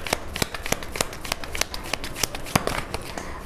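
Tarot cards are shuffled close by in quick irregular riffles, with crisp papery snaps and flutters over about three and a half seconds and no voices.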